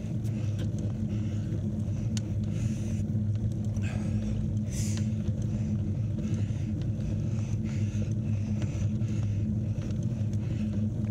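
Car passing on a quiet country road, a steady low rumble with wind buffeting, the vehicle's swell rising and fading in the distance.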